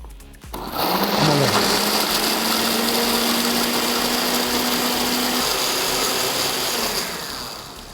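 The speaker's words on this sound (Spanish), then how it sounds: "Ahí están todos mis ingredientes en la licuadora." A blender mixing marinade ingredients whirs loudly and steadily for several seconds, starting abruptly after a brief click and easing off near the end.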